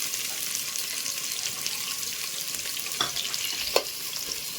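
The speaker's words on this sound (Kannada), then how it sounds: "ಇದೊಂದು ಸ್ವಲ್ಪ ಫ್ರೈ ಆದಮೇಲೆ ಒಂದು ಬೌಲು ಈರುಳ್ಳಿ ಹಾಕ್ತಾಯಿದ್ದೀವಿ" Sliced onions for mutton biryani frying in oil crackle and hiss steadily up close, with a couple of sharp utensil knocks near the end.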